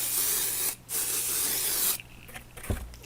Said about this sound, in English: So I'm going to spray on this side.